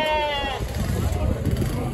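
At a livestock market, a Turkey sheep (dumba) gives one clear, close bleat, followed by crowd murmur and nearby talking.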